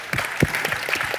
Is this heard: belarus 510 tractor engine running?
no